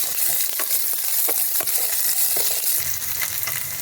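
Chopped onions frying in a pan for sabu poha: a constant bright hiss of hot oil, broken by scraping stirs and brief clicks, close and fairly loud.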